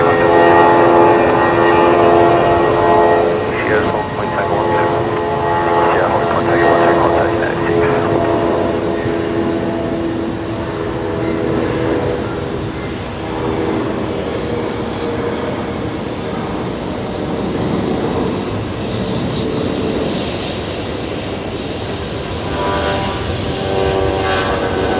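Jetstar Airbus A320 leaving runway 01 right at Brisbane Airport at night, a loud continuous engine drone with sustained whining tones that ease and shift as it rolls off the runway.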